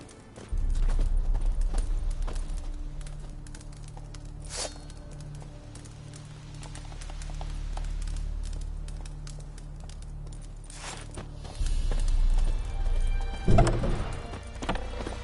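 Horse hooves in the game The Witcher 3, clip-clopping in a steady walking rhythm, close and moderately loud over a low ambient hum with a few faint bird calls.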